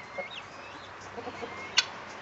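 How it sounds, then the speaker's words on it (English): A guinea hen calls on a farm among poultry, giving a few faint clucks and one sharp, brief squawk near the end over a quiet, steady outdoor background. "Hello there, you guinea hen."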